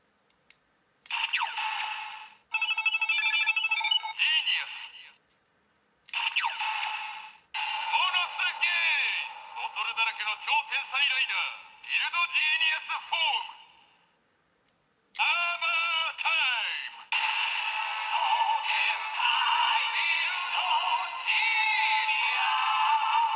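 Kamen Rider toy sound effects triggered by a manually pressed button: a series of bright electronic chimes, jingles and voice-like synthetic bursts in short separated bursts with brief silences between, close and clear.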